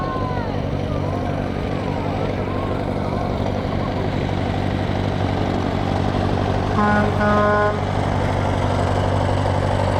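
An old tractor engine rumbles past in a small-town parade, a steady low idling drone with outdoor crowd noise, a few brief tonal honks near the end, and no clear speech over it.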